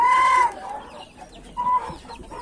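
Chickens clucking close by, a hen among chicks of a naked-neck line, with two loud bursts of squawking separated by softer scratchy clucks and rustling.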